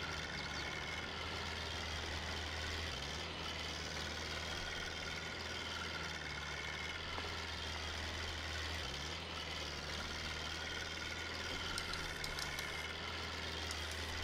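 A tractor engine in Farming Simulator 22 labors steadily up a hill, a low heavy drone that holds constant, with two brief dips in pitch, running alone with no talk.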